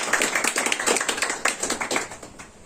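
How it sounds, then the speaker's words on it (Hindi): A crowd applauding at a World Disability Day event, a quick burst of many hands clapping at a steady pace, fairly close and without talk. "उनके लिए जोरदार तालियां बजाएं"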